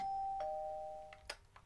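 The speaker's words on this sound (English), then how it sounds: "But if we enter, we've got the doorbell." A doorbell chimes in a Minecraft CrazyCraft modpack starter house, with a sustained tone that fades and then a sharp second ding near the end, loud and close with no talking.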